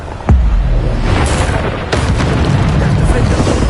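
Bombarda spell blasts in Hogwarts Legacy: a heavy, loud explosive boom opens, and a second blast follows over dense, rumbling combat noise.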